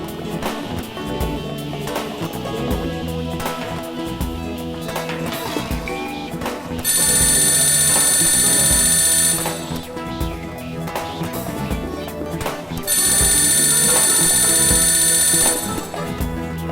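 A telephone rings twice in long electronic bursts before an answering machine picks up, the rings rising over a continuous music background.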